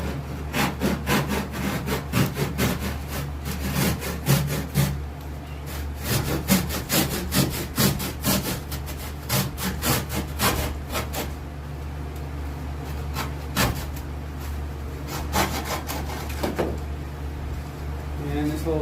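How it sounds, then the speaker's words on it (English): A small drywall-style hand saw cuts the tail off a foam fish form for a striper mount, giving rapid, rhythmic rasping strokes that run nearly continuously, pause briefly, then resume. "Probably saw this tail off."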